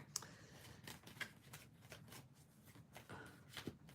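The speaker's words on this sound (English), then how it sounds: "Let's just shuffle this." Tarot cards are shuffled in quick, soft riffling bursts, close and quiet, with the brisk rhythmic flutter of cards repeating through a silent room.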